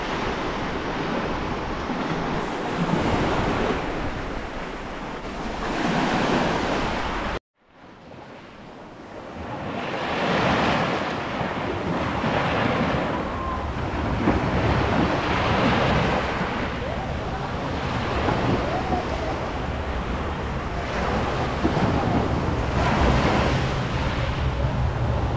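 Surf washing onto a clear-water beach at Laiya, San Juan, Batangas, a steady broad wash of waves rolling in continuously, briefly cut out for a moment, then resuming at a similar level.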